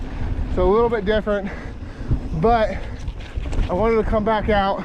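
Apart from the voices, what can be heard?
wind blowing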